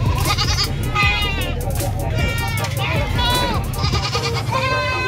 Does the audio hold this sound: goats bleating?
yes